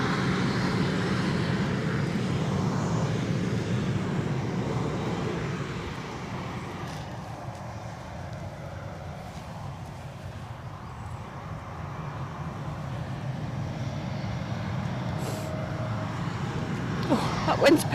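An EasyJet airliner from Amsterdam on approach to land at Edinburgh Airport, a moderate engine rumble that eases off then builds again toward the end, with wind noise and occasional voices.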